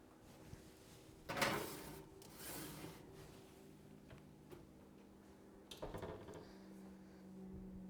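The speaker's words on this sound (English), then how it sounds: "let's put it in the oven and start with 20 minutes." Tart shells slide into a kitchen oven and the door knocks shut, with a few brief clunks and bumps followed by a steady low hum as the oven runs. Moderately quiet, no talking.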